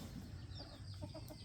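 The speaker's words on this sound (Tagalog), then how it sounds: "Pinalibutan ko na lang yung aking mga manok." Chickens in a farm pen under a tree give a few soft, faint clucks against a low background hum.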